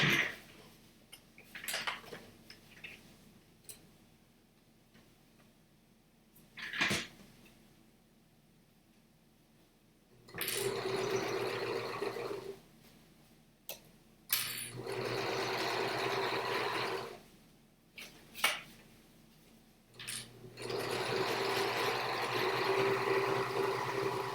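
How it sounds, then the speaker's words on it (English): Sewing machine stitching the seams of a bag, running in three loud sustained bursts of rapid whirring separated by quiet pauses and a few handling clicks. "now I'm going to turn around and sew these 2"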